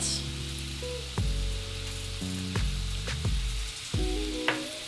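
Shallots softening in a pan with salt and fresh thyme, giving a steady sizzle with several sharp utensil knocks and clinks against the pan throughout; no one speaks.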